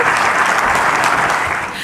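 A forum crowd claps for Zimbabwe's President Mnangagwa as he takes his seat on stage, a thick, even burst of applause that tapers slightly at the end.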